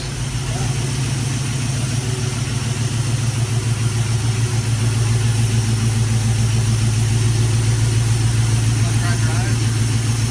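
Car engine idling steadily with a low, even hum while the vehicle backs up in reverse, an older car that has been smoking, with no clear revving.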